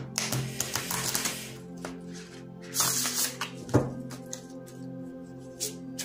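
Tarot cards shuffled by hand, soft riffling and tapping in irregular flurries with a few sharper slaps, close and fairly quiet.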